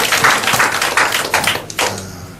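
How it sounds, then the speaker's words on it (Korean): A church congregation claps for its worship team: a short burst of dense hand claps with a few louder slaps, fading out within a couple of seconds. "우리 찬양단을 위해서 다시 한번 박수합니다"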